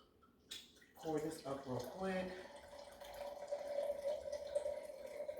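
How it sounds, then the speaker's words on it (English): A drink being poured into a glass at home, a short liquid splash followed by a steady, close trickle that lasts several seconds, with faint talk around it. "Let me just pour this up real quick."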